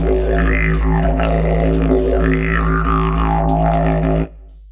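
A didgeridoo patch on a Kurzweil K2700 synthesizer gives a loud, steady low drone with shifting, throaty overtones, sustained alone before cutting off abruptly.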